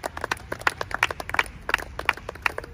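A worship congregation claps together in a quick, steady rhythm, bright and close, with a few faint voices mixed in under the applause.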